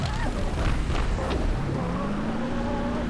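A video-game explosion bursts beneath a police car: a loud, dense rumbling blast fills the opening second, then the roar settles into sustained noise with a rising engine-like tone underneath.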